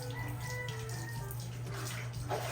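Water pours and splashes in a steady, continuous rush, close by, as a thick-coated dog is bathed from a drum.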